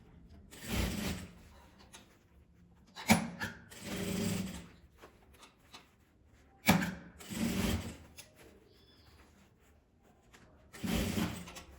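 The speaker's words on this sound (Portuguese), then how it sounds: "E agora eu vou passar uma costura aqui em volta da boca toda." Short bursts of sewing machine stitching around the opening of a small fabric coin purse, with quiet gaps and handling clicks between the runs.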